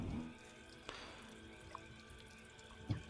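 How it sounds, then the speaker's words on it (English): Water drips in a cold cavern inside a tabletop role-playing session: a few sparse, faint, isolated plinks over a low steady wash of ambience, no voices. "You hear water running and dripping from stalagmites on the roof, on the ceiling."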